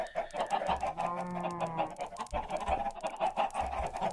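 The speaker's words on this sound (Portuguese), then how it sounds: "as galinhas estão dominando tudo aqui embaixo" A crowd of chickens in the Minecraft video game clucks in repeated, overlapping bursts, close and busy, with no talking over them.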